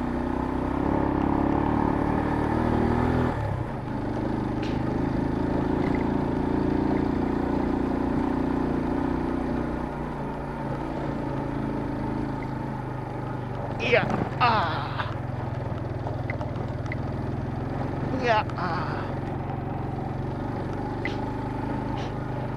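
Motorcycle climbing uphill on a rural road in Capas, Tarlac, a steady mid-pitched engine drone heard from the rider's position, with someone talking over it.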